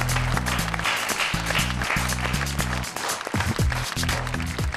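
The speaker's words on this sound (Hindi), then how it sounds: "तालियां।" Audience at a poetry event breaks into applause, a loud, dense clapping that carries on steadily with music or stage sound mixed underneath.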